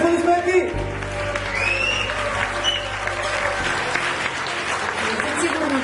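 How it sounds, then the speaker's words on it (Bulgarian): Strong applause fills an award event, a dense, steady wash of clapping from a crowd with scattered voices and brief tones over it, staying even and full throughout. "Силни аплодисменти!"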